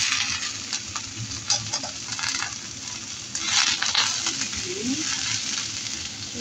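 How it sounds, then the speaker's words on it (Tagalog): Broccoli stir-fried in a hot pan with garlic and ginger, a steady close sizzle broken by scraping stirs and clinks of the utensil, with no talking. "Tapos ilagay na natin ang ating broccoli"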